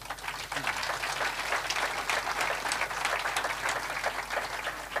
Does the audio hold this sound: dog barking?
no